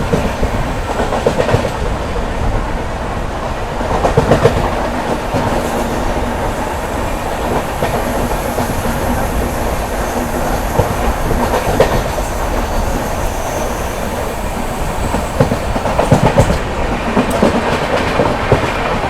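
The Shradhha Sethu SF Express, running from Chennai Egmore to Rameshwaram, rolls along with a loud, continuous rumble and rhythmic clickety-clack of wheels on the rails, heard from on board without any talking.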